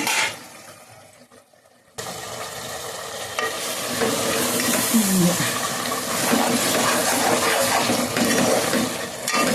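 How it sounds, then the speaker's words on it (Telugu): Broad beans and tomato curry simmering in a pan, a steady close sizzle and bubbling with faint stirring, continuous after a quieter opening moment. "కొంచెం ఒక రెండు నిమిషాలు అయితే ఉడికించుకుందాం"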